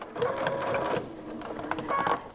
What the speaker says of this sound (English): push the bag up like that so that I can get around it and continue stitching